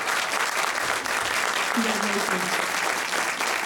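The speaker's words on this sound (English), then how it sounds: "we're gonna do a big round of applause" Audience applause for youth leadership award nominees at an annual awards ceremony, steady dense clapping throughout with a brief spoken word over it.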